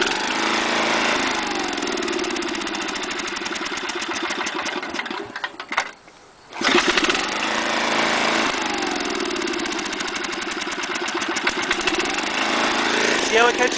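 A cold-started small engine runs at full throttle, misfiring with a loud, steady mechanical drone that cuts out briefly and then catches back on and keeps running.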